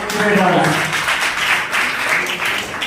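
An audience at a school farewell program for a graduating class applauds, a moderate wash of clapping running under a speaking voice that continues over it throughout.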